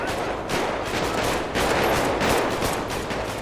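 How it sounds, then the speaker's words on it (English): Rapid gunfire rattles in a GTA 5 game as two gangs shoot at each other on a late-night patrol, dense overlapping bursts of shots, loud and close, continuous for a few seconds without talk. "we even got two gangs shooting at each other"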